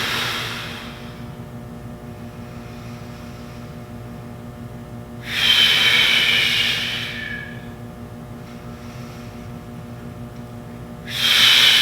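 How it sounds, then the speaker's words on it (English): Two big, forceful breaths pushed out through the mouth during training for a meet, each a loud, hissing rush lasting about two seconds, with a steady low hum underneath. "big forceful exhale through the mouth"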